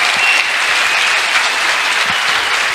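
An audience bursts into steady, dense applause, a continuous wash of clapping hands that holds level from start to finish with no voices on top.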